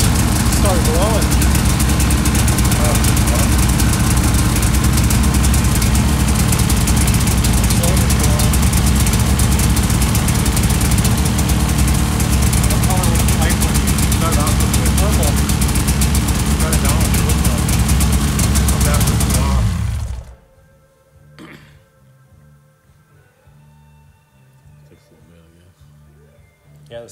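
A snowmobile engine cold-starting and idling, loud and steady with a rough mechanical rumble for about twenty seconds before cutting off abruptly, leaving quiet room noise.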